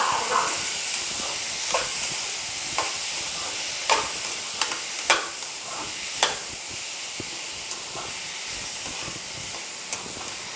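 Tomatoes sauté in a hot pan with a continuous hiss and sizzle, broken by irregular scraping clicks as a spoon stirs them now and then; no one speaks.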